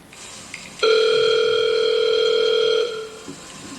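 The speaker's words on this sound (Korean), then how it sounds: "그래서 사전에 섭외해둔 김민준 씨와 한번 통화를 해보도록 하겠습니다" A telephone sounds one steady, bright electronic tone lasting about two seconds, clear and close over a quiet background, as a call is placed.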